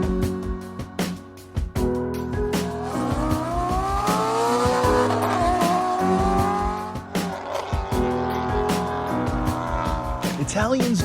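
Maserati Quattroporte M139 sedan, Pininfarina designed, engine revving hard through rising and falling pitch sweeps, loud and close, with some tire noise and a brief voice near the end.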